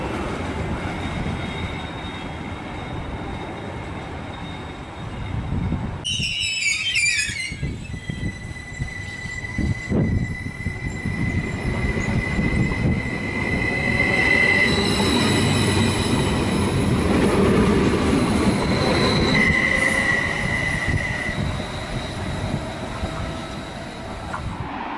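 A Bergen Railway multiple-unit train pulls through a station, with rumbling wheels and a low, steady running roar, plus a brief sharp squeal burst early and long high-pitched wheel squeals sustained later on.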